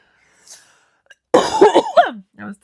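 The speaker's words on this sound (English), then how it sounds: "I was still coughing" A person gives a burst of harsh, close coughing, with a throat-clearing rasp in between and a brief voiced sound at the end, coming after a near-silent pause.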